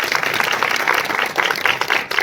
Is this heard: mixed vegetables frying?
no